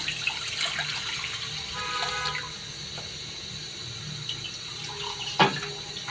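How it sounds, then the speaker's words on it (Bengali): Lukewarm water poured into a wok, heard as a running splash and gurgle that fades into a quieter wash, with a sharp clink of metal near the end. "কড়াই বসিয়ে দিচ্ছি দিয়ে দিচ্ছি গরম গরম হালকা গরম জল"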